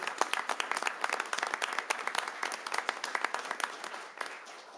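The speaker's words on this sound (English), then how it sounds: "One more big round of applause for Dominic." Applause at a city council meeting, a room of people clapping steadily with dense, overlapping claps that hold at an even level before tapering slightly at the end.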